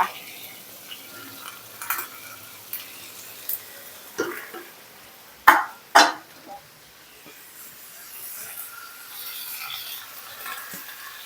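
Napa cabbage is stir-fried with minced pork in a pan, giving a quiet frying hiss broken by sharp metal spatula scrapes and clanks, two louder ones in the middle, with no talking.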